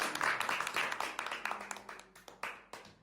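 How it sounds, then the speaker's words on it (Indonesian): A small studio group on a student talk show claps for its guests: a few people's quick, close, rhythmic hand claps lasting about three seconds and then thinning out toward the end. "Tepuk tangan dulu buat mereka"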